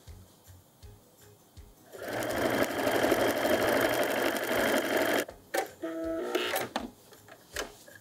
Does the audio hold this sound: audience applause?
no